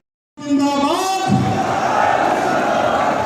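At a ceremony honouring a Kirti Chakra award winner alongside a deputy chief minister, a crowd breaks into loud, sustained applause and cheering that begins abruptly, with a raised voice sounding briefly over it.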